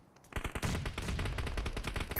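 Automatic gunfire in a PUBG Mobile gunfight on the Erangel map rattles in dense, continuous bursts after a brief quiet start, loud and overlapping with no pause.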